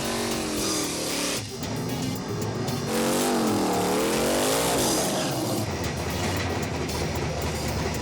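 A Pontiac Trans Am's engine revs at a drag racing event, loud and close, its pitch rising and falling in repeated surges over a continuous roar.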